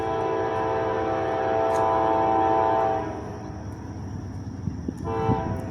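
A Norfolk Southern eastbound double-stack freight train rolls past at speed in Chesterton, Indiana, a loud steady rumble of wheels and cars with a brief horn-like tone, easing slightly partway through.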